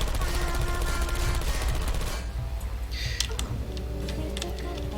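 Turrets in Portal 2 firing in a long rapid rattling burst, loud and continuous for about two seconds, then dropping to scattered faint clicks over a low hum.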